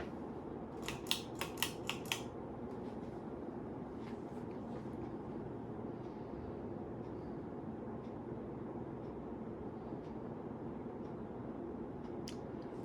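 A newly assembled Evergo 4E-5BLW ceiling fan running on its low setting gives a steady, even whir that holds at the same level throughout, with a few short clicks near the start.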